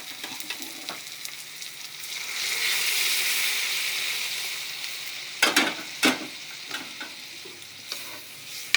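Water from boiled tomatoes is poured onto roasted spices for rasam, setting off a sizzle that swells and hisses for several seconds, followed by a few sharp clinks of utensils against the pot.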